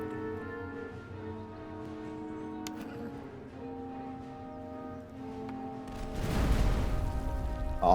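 Cannon fire in the 18th-century battle game Master of Command, a rumbling boom that swells near the end over a sustained game score with occasional distant shots.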